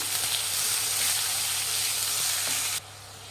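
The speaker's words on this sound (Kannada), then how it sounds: "ಒಂದು ಐದು ಈರುಳ್ಳಿನ ಸಣ್ಣದಾಗಿ ರೀತಿ ಹಚ್ಚಿಟ್ಕೊಂಡಿದ್ದೀನಿ ಅದನ್ನು ಹಾಕ್ಕೊಳ್ತಾ ಇದ್ದೀನಿ ಫ್ರೆಂಡ್ಸ್ ಇದನ್ನು ಫ್ರೈ ಮಾಡಿ" Finely chopped onions fry in hot oil for a lemon rice dish, giving a loud, continuous hissing sizzle close by that cuts off abruptly near the end.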